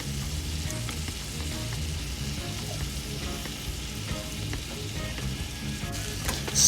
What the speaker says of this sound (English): Just give them about a minute,